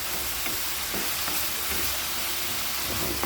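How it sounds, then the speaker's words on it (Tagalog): Pechay is sautéed in a pan with a loud, dense, continuous hiss and sizzle, and faint scraping stirs run underneath throughout, with no voices. "Tapos sutay-sutay lang natin ang gisa-gisa. Igisa-gisa lang natin."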